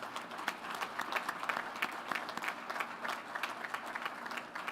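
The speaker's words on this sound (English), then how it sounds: "So a big round of applause for our soloist." Crowd applause rises at a Navy ship christening ceremony in San Diego for the future USNS John Lewis (T-AO 205), a steady wash of many hands clapping that holds at even strength throughout.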